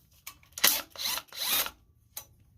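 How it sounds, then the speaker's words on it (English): A ratchet tool turns out the bolts holding the solenoid on a Briggs & Stratton Intek 18.5 hp V-twin engine, a few short, close whirring bursts with brief pauses between them. "we're going to undo the bolt here"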